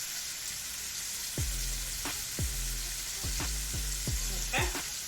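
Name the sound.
searing stuffed pork chops in a pan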